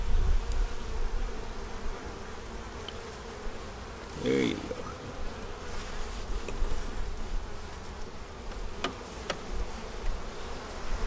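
Honey bees buzz steadily around a hive in winter, a dense insect drone under a short spoken remark and some handling noises.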